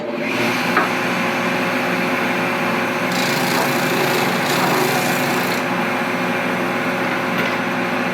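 A Shopsmith drum sander grinding steadily against wood, a loud continuous abrasive rasp over a motor hum, throwing lots of dust, with a brief brighter scraping stretch partway through.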